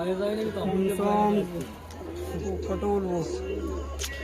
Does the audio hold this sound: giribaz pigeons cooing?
yes